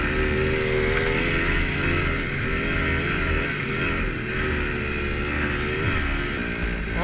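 A two-stroke snowbike engine runs hard in fourth gear, a loud, continuous buzzing drone with shifting pitch as the revs rise and fall slightly, heard close up with wind noise and no talking.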